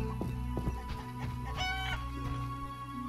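Geese in The Witcher video game give a run of short clucking, honking calls against a steady game soundscape, moderately loud with no talking.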